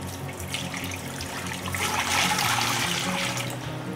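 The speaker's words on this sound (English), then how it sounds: "we're gonna start with Berlin, 5 cups of water in the Instapot." Water poured into an Instant Pot pressure cooker, a steady broadband splashing that swells louder midway, continuing alone without talk.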